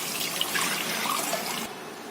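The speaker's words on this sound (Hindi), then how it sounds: "अब डालेंगे हम यहाँ पर ये कड़ी का मिक्सचर" Kadhi mixture poured into a pan of fried kulfa greens on the stove, a steady close liquid pour and splash lasting about two seconds and then easing off, with no speech.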